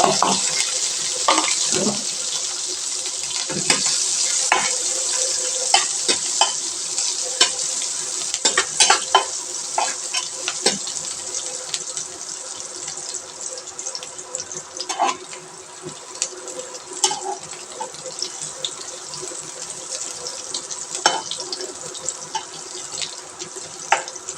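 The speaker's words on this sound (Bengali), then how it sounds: "প্রথমে আমরা জিরে দিয়ে দেব, এরপরে মরিচ, পেঁয়াজ আর ধনের পাতা দিয়ে দেব।" Cumin, chilli and onion sizzle steadily in a hot pan, a dense bright hiss broken by scattered crackles and the scrape of stirring, close and continuous throughout with no talking.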